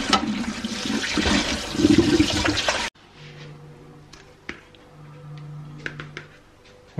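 Water runs hard from a tap while beef ribs are rinsed, a loud gushing that stops abruptly partway, followed by quieter kitchen clatter.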